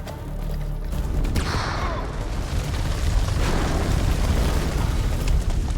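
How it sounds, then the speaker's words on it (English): A grenade blasts in the video game House of Ashes, a loud, close, rumbling boom that rolls on with debris and low noise for several seconds. "Grenade!"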